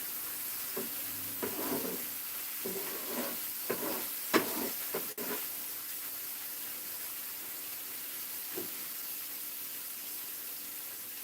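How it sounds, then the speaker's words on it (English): A steady, faint sizzling hiss of a burger frying, broken by a few scattered clinks and taps of utensils. "Oh, there's that sizzle."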